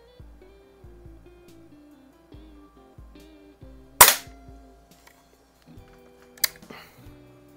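A 1970 Crosman 760 air rifle with brass bolt fires two sharp pops, a louder near shot followed a couple of seconds later by a second, with faint clicks and handling noises between.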